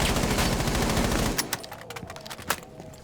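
Gunfire in the video game Rainbow Six Siege: a dense, rapid burst of shots fills the first second or so, then gives way to scattered single cracks and distant pops.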